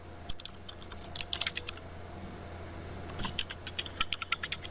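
Fingers type a command for a Cisco ASA 5510 firewall on a computer keyboard: quiet, rapid key clicks in two short runs separated by a brief pause, faint against a low background hum.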